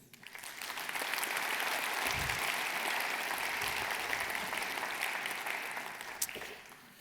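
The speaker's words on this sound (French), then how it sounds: "je vous invite à les applaudir." An audience in a hall at a New Year's greetings ceremony gives sustained applause, a dense wash of clapping that swells after a second, holds steady, then tapers slightly near the end.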